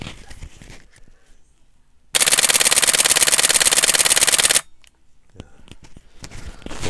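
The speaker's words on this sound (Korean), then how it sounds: "10연사 가볼게요. 셔터 소리 들어보세요" A Canon 7D Mark II fires a 10 fps burst, its shutter clattering in a fast, even, loud run of clicks for about two and a half seconds, framed by quieter handling noise before and after.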